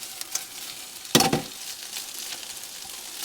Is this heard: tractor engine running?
no